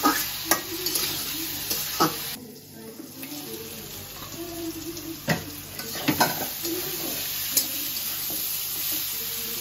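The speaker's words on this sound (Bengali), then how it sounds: "একটু ভালোভাবে এই সবজিটা একসাথে মশলাটার সাথে কষানো হবে।" Vegetables with potato and drumstick stems are stirred and fried in spice paste, with a steady sizzle and repeated sharp scrapes and clanks of the spatula against the pan.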